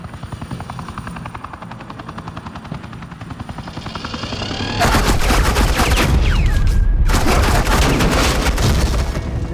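Rapid bursts of automatic gunfire in the video game Batman: The Enemy Within, loud and dense, breaking in over a steady helicopter-like whir after a quieter stretch.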